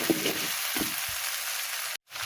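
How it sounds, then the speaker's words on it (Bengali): Spice paste sizzling and frying in a pan for a chicken dish, a soft steady sizzle with a few brief stirring scrapes, cutting out abruptly near the end. "মশলাটা আমি সুন্দর করে লাল লাল করে ভেজে নিয়েছি"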